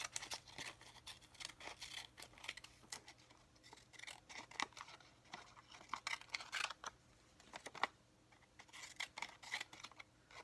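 Scissors snipping paper for a collage, a close, quiet series of sharp irregular cuts and rustles with short pauses between them.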